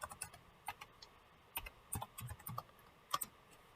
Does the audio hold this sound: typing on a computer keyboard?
yes